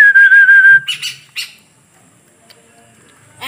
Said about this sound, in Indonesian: ada burung cucak biru